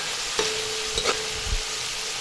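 Seasoned American catfish fries in a pan with a steady, even sizzle, broken by a few soft clicks and taps of utensils.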